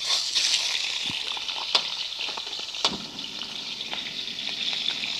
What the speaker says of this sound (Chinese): 然后呢放到锅里头呢来煎